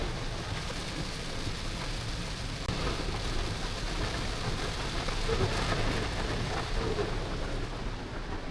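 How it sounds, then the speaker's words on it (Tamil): Heavy rain driven by strong wind pours down steadily, a dense continuous roar with gusty swells and no break throughout. "பாத்தீங்கன்னா பயங்கர மழை கொளுத்துட்டு இருக்குது"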